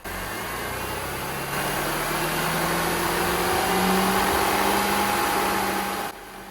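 A supercharged B8 Audi S4 engine is held at around 2,000 RPM during a coolant refill, a steady, fairly loud mechanical drone with a faint whine that rises slightly in pitch midway and holds, then drops back near the end.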